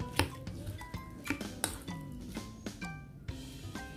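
Thai pork sausage salad tossed in a bowl, giving repeated clinks and scrapes of a utensil against the dish with soft wet squishing, close up and fairly quiet with no talking.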